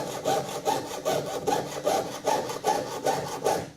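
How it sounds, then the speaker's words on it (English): A hand saw cuts through metal in steady back-and-forth strokes using the full length of the blade, about nine rasping passes in an even rhythm, close and fairly loud. "I'm sawing as the entire length of the blade"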